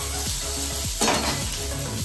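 Star fruit pieces hit hot oil with panch phoron, mustard seeds and dried chilli, a steady close sizzle running throughout with a louder burst of spitting around the middle and light utensil scrapes, no voices.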